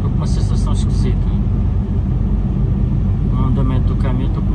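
A truck rolls along a rough, shaking road with a loud, steady cabin rumble and rattling vibration throughout. A voice talks over the engine and road noise.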